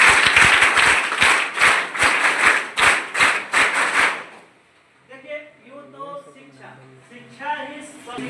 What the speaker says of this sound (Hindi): इनके लिए एक बार जोर से ताली हो जाना